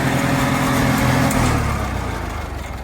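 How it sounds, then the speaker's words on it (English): A 1950 Farmall H tractor engine runs steadily and close by, a continuous loud mechanical drone that eases off slightly toward the end, with no voices over it. "Good running tractor. Starts right up."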